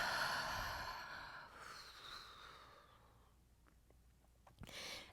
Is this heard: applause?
no